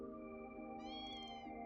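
A cat in the video game Trails Through Daybreak 2 gives a single drawn-out, whiny meow, close and clear, over a steady held musical tone.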